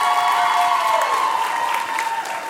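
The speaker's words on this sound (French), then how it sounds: "On peut-tu applaudir nos spectateurs?" A show audience breaks into sustained, dense applause, loud and continuous from start to finish with faint cheering mixed in.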